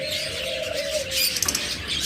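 Pet birds kept for sale chirp and coo close by, with a steady cooing tone under bright, busy high tweets.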